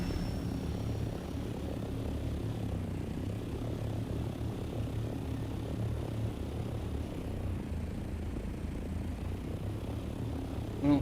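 Ornithopter thruster in the video game Dune Awakening: a steady, loud engine-like drone with a rumbling low roar, continuous and unchanging throughout with no talking.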